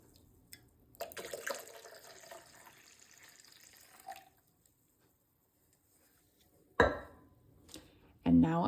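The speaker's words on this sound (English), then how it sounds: "And then I just pour my hot liquid in here." Hot liquid is poured into a Vitamix blender jar, a close splashing pour that runs for a few seconds and then fades, followed by sharp clunks and handling knocks.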